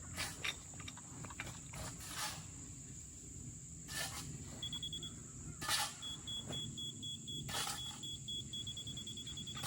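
A faint, steady electronic beep tone from a laser level receiver comes and goes over a low outdoor rumble at a septic field installation, with a few louder thumps and rustles close by.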